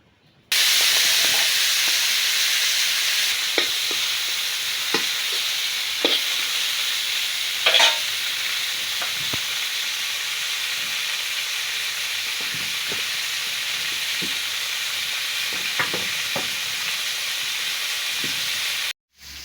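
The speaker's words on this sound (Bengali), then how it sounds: "এখন মাছটা ভাজা নেবো" Fish fries in a pan in a village kitchen, giving a loud continuous hiss and sizzle with scattered pops and crackles, near and steady for almost twenty seconds, with no voices.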